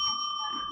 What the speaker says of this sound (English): Very ringy with that bell this morning.